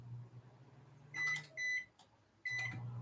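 A running microwave oven hums low and steady, broken by bright electronic beeps and tones from nearby, close and moderately loud.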